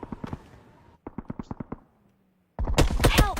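Bursts of automatic gunfire from the battle royale game PUBG: a rapid string of shots, then a second burst after a short pause, and a dense, louder volley of overlapping shots near the end.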